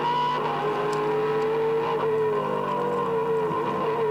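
V8 Supercars racing at Eastern Creek in 2005, a Castrol Commodore with another car stuck to its tail, engines droning loud and steady with rising and falling revs, no voices.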